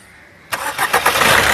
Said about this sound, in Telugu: ఒకసారి ఇంజన్ స్టార్ట్ చేయి